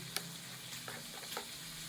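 Chicken fries lightly in a pan with a soft, low-level sizzle, broken by a few faint clicks and stirring scrapes, heard close and without voices.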